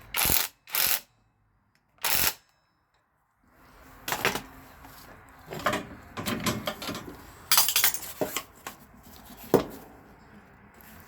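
A hand ratchet clicks in several short bursts while tightening a bolt during a rear shock replacement on a 2006 Mazda 5, close and fairly quiet, with softer clunks and handling noise after.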